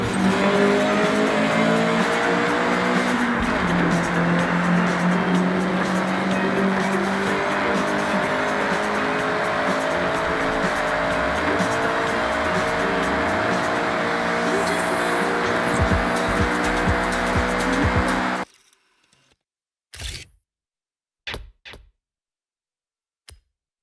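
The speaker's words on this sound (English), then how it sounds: "All right, get the CRX up to speed." A Honda CRX race car in the Forza Horizon driving game, its engine revving hard and loud with shifting pitch and tire squeal throughout, cutting out abruptly near the end to a few short clicks.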